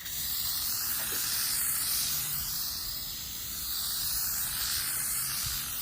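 A steady, continuous aerosol hiss of spray adhesive for a sagging headliner in a third-generation Pontiac Firebird runs through the whole stretch, dipping briefly midway before resuming, with no talking.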